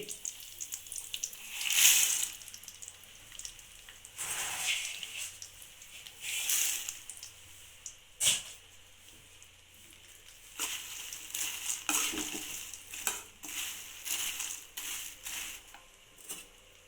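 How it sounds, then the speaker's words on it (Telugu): Puffed rice tipped into a hot pan sizzles and crackles, with bursts of frying hiss and stirring scrapes rising and falling across the stretch, close and moderately loud, no voices. "ఇప్పుడు మరమరాలు వేసేసుకుందామండి."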